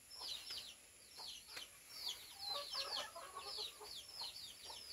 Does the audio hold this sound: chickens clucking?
yes